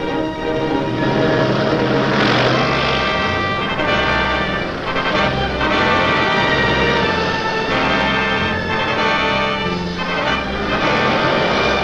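Several WWII fighter planes fitted with long-range auxiliary tanks leave together for the air front over Western Europe, their piston engines giving a loud, steady, dense drone that runs unbroken through the whole stretch with no talking.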